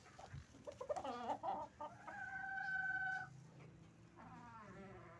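A chicken clucks and makes drawn-out, throaty calls nearby, a few separate vocalizations with quiet pauses between them.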